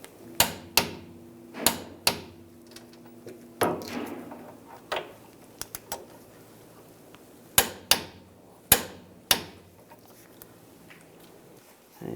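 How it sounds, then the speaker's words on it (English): A torque wrench tightens the parking brake bolts on a 2011–2018 Ram 1500 to 132 foot-pounds, giving a dozen sharp, close metallic clicks spaced irregularly over quiet workshop background. "Now we'll torque these to 132 foot-pounds."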